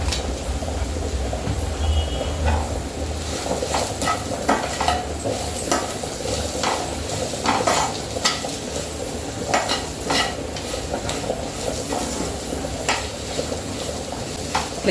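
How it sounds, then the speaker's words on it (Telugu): Tamarind, garlic, cumin, mint and coriander fry in a pan for mint chutney, a steady sizzle with frequent scraping and stirring taps throughout, close and unvoiced. "చింతపండు వెల్లుల్లి జీలకర్ర పుదీనా కొత్తిమీర ఇవన్నీ వేసి మనం ఇట్లా ఫ్రై చేసుకుంటే మంచిగా టేస్ట్ వస్తుంది"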